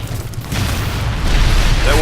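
A rocket explosion in Unreal Tournament 3 lands as a deep boom, followed by a rising roar of game noise, loud and close.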